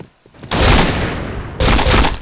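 Gunfire from the video game Point Blank, heard as two loud, close bursts of rapid shots with a brief pause between them.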